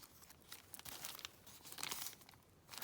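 Christmas-themed paper being folded over into a handmade envelope gives faint, close crinkling and rustling that goes on steadily, with soft scrapes and crackles and no talking.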